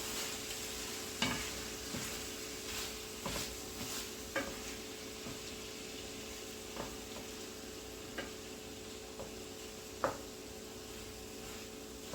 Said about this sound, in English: we're gonna let that butter melt